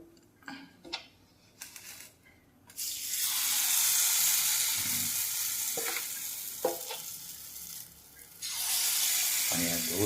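Sweet paniyaram batter hits hot oil in a pan and sets off a loud, steady sizzle that runs for several seconds, dips briefly, then surges again, with a few soft clinks and stirring sounds before it.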